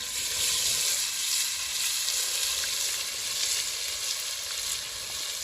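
Tomato frying in oil over a wood fire, making a continuous dense sizzle that holds steady and fairly loud throughout, with no talking.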